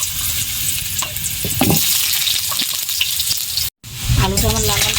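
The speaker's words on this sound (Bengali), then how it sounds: "তেল গরম হয়ে গেছে, এবার আমি আলুটা ভেজে নেব।" Potatoes fry in hot oil in a home kitchen, a steady broadband sizzle with scraping stirring strokes, close and fairly loud, with a brief dropout near the end before the crackle resumes.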